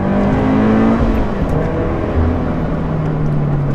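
A supercharged four-cylinder Scion FR-S with an aftermarket exhaust revs loudly and up close, a sustained droning engine note that rises and falls in pitch.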